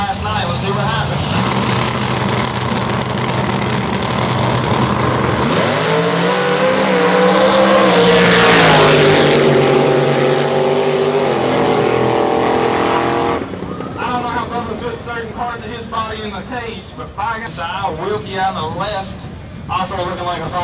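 A pair of Fords, one apparently a Fox Body Mustang, roaring through burnouts in a drag strip burnout box, loud revving engines rising and falling with tire squeal while announcers and a crowd talk over it.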